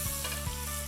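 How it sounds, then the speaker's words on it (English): Mushrooms pan-frying in bacon fat give off a brief, steady, dense sizzle with a fine crackle, close and even throughout. "I'm pan-frying these separately to the beef so they remain crisp and have a different texture."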